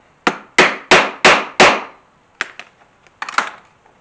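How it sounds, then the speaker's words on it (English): Five sharp, evenly spaced hammer blows set a metal rivet with a cap on an anvil through a leather holster, followed by a few lighter, quicker taps, close and loud with no talking. "and then set my rivet"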